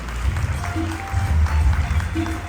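A gathering at a community get-together claps, a loose scattering of hands under low hum and murmur, moderately loud and fairly close.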